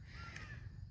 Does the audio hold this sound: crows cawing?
yes